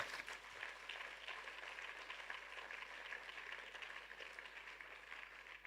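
A church congregation gives a steady wash of applause, thinned by distance and fairly faint, holding throughout without a break.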